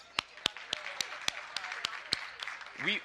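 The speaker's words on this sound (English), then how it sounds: "Can we get a big round of applause for them, please?" About nine sparse, separate claps from a small audience at a women's leadership panel session, quiet and unevenly spaced, with a voice starting just at the end.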